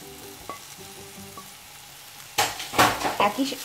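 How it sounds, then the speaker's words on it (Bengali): Red and green capsicum sauté in a pan for egg chilli, a quiet hiss with light clinks that swells into a loud, crackling sizzle as the pieces are tossed and stirred. "এটা একটু সটে করে নিতে হবে।"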